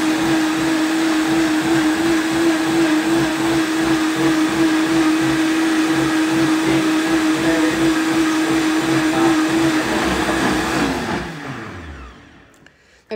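A countertop blender runs continuously at high speed, pulsing as it mixes a green smoothie of foraged weeds; a loud, steady motor whine with a churning texture that cuts off sharply near the end.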